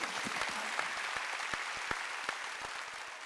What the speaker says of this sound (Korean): 박수. 아들 딸이다.